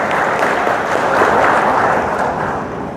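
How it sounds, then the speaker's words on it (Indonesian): Applause fills a party regional conference hall in Aceh, a dense steady wash of many hands clapping that swells slightly midway and eases toward the end. "Tepuk tangan yang mulia."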